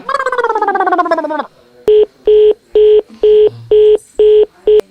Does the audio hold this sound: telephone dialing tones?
yes